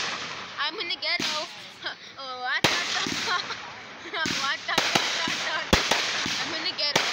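Fireworks going off nearby, sharp cracking bangs and firecracker pops in irregular bursts, with whistling rockets rising between them and people talking and exclaiming over the noise.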